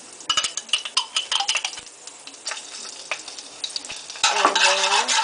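Garlic and beef frying in a pan with a tablespoon of oyster sauce for beef egg rolls, with rapid ticking spatula taps and scrapes over a soft sizzle that swells louder near the end.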